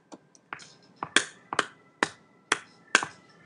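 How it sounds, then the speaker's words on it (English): Single hand claps recorded into GarageBand, about eight sharp, dry, close claps spaced roughly half a second apart, evenly paced, alone in a quiet room. "So I'm going to just do a little clapping right here."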